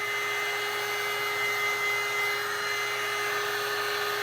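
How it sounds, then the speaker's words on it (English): A heat gun runs in a steady, continuous whoosh of blowing air with a faint tonal whine, held at even loudness while it is passed over bubbles in a thin resin mold. "So if you use a heat gun, that pops bubbles."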